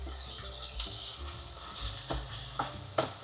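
Hotdogs frying in a pan give off a steady, close sizzle with stirring clatter and a few sharper utensil clicks near the end, with no voices.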